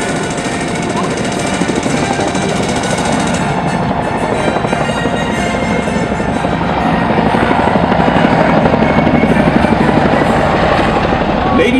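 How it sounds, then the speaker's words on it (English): AH-64D Apache attack helicopters fly close overhead at an air show, with a loud, rapid rotor thudding and engine roar that stays steady throughout. "the AH-64D Apache attack helicopters have detected an unsuspecting enemy convoy and are now moving in for the kill"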